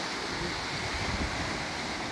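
Large swelling sea waves churning next to a boat by the shore, a steady rumbling wash of surf mixed with wind buffeting the mic.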